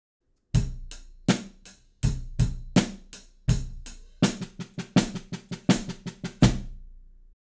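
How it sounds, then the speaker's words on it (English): A drum kit plays a steady backbeat groove of kick, snare and hi-hat, then breaks into a quick run of sixteenth-note hits before a final crash. "we're gonna start with the 4-4 backbeat groove with a fill of 16th notes"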